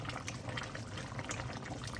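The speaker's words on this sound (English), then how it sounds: "let's add a little bit of water and add our sugar" Water poured into a simmering pot of Filipino pork menudo, a steady, close splashing and sizzling wash that continues evenly without pause.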